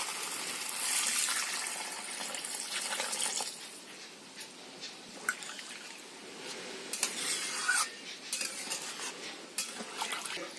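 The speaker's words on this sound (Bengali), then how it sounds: "এবার এতে দিয়ে দিচ্ছে এবার মা জল" Water goes into a pan of fish curry with soft pouring and splashing, followed by scattered metal clinks of a spoon against the pan, quiet and close.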